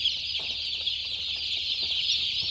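Day-old baby chickens in a large poultry house, a dense chorus of high peeping and clucking from a huge flock, continuous and steady, with no talking.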